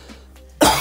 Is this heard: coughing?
yes